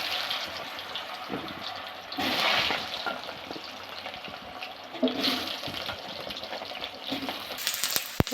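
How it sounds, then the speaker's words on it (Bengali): Potatoes fry in hot mustard oil in a wok, giving a steady close hiss of sizzling with louder surges at a few points. "আমি এবার আলুগুলো ভেজে নেব।"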